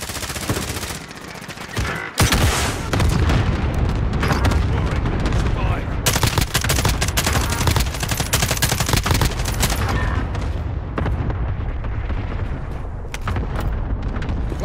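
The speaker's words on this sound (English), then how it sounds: "Allied cluster strike inbound." Cluster strike explosions and gunfire in the game Warzone, a dense, loud barrage of bursts and booms. A brief lull comes near the start, then near-continuous blasts and shots roll on to the end.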